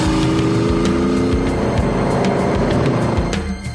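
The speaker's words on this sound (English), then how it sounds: "It's a Van Wall, or more specifically, a recreation of the Van Wall F1 car that won the 1958 World Championship." A recreation of the 1958 championship-winning Vanwall Formula One car revs loudly and up close, its engine giving a rich, throbbing roar with pulsing harmonics that stays strong throughout, then eases slightly at the end.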